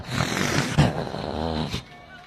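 A voice mimics a male dog growling, a rough, throaty rumble lasting close to two seconds with a brief harsh burst partway through, then it trails off into quiet.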